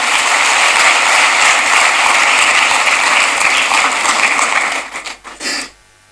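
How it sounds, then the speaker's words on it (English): Sustained applause from an audience welcoming school children at a presidential Independence Day awards ceremony, dense and steady for about five seconds before dying away in a few scattered claps. "A big round of applause as we welcome them."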